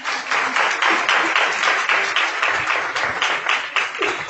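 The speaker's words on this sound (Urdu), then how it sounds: "اس بہن کے لیے تالیاں بجائیں آپ" A church congregation claps steadily throughout, a dense, sustained round of applause from many hands in a worship hall, loud and close, with no talk on top.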